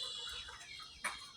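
Tiger breed chickens cluck softly in a poultry shed, with short, faint calls and a slightly louder cluck near the end over a quiet background.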